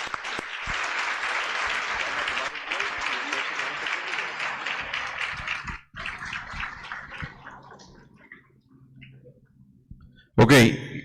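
An audience applauds after a talk at a religious gathering, sustained dense clapping for several seconds that fades out, followed by a brief loud burst of a voice or noise.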